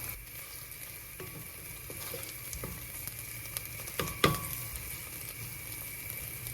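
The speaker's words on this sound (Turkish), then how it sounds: "Soğanlarımızı güzelce kavurduktan sonra salçamızı atıyoruz. Salçamızda güzel güzel kavuracağız." Onions and tomato paste sizzle steadily in a hot pan, a continuous fry hiss with occasional soft scraping of a utensil and one sharper clatter near the end, no one talking.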